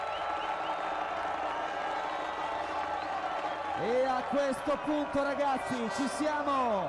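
A vast crowd at the 2008 San Marino MotoGP podium keeps up a steady roar and cheer, with a commentator talking loudly over it.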